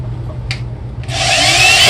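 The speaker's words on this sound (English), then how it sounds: "you just drill right through" A loud power drill whines up and bores through pallet wood, with a couple of short bursts first before a sustained, rising grind.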